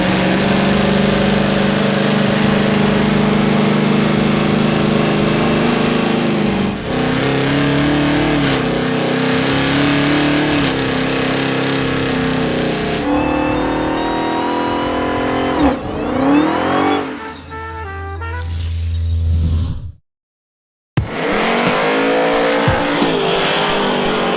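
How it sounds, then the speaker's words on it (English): A 1968 Dodge Charger fitted with a 707 hp Hellcat engine at a drag event, roaring through long, loud revving burnouts with rising and falling engine pitch and tire squeal, ending in a brief drop before the engine surges again. "Let's do some Big Smoky burnouts and get out of here."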